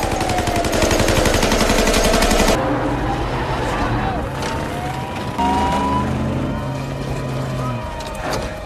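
Gunfire in a car chase from the film Son of a Gun: rapid bursts of shots ring out over roaring engines and passing cars, then the engine noise carries on with scattered shots, with a narrating voice over part of it.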